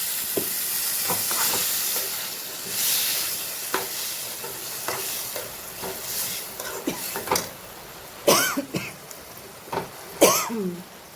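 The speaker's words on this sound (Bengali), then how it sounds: "কিছুটা জল দিয়ে দিচ্ছি, পরিমাণ মতো জল দিয়ে।" Water poured into a hot pan right after frying, giving a close, steady hiss and steamy sizzle that swells and fades, broken by scattered stirring knocks and a few sharper clatters near the end.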